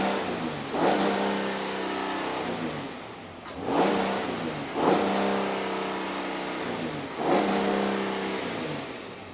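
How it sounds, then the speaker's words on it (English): An Audi Q7 engine revved repeatedly in a workshop, four rising bursts that fall back toward idle, close and steady with no talk. "Let me rev up the engine a couple of times."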